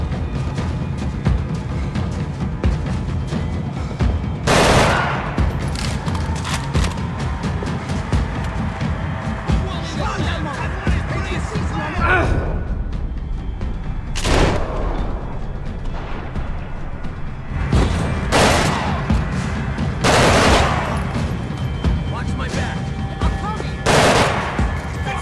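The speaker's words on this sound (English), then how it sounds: "Gunfire over Hoboken." Gunfire in the video game Max Payne 3, with sustained automatic bursts and rattling shots layered over a dense low roar, punctuated by several loud, sharp blasts spaced a few seconds apart.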